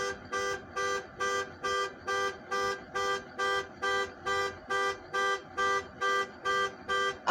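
A car alarm blaring in a steady rhythm of identical, harsh horn-like pulses, about two per second and fairly loud, continuing without pause.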